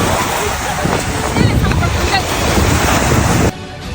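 Waves and wind roar along the Issyk-Kul lake shore as a loud, steady rush of surf, with wind buffeting the microphone, then cut off abruptly near the end; faint voices may sit underneath.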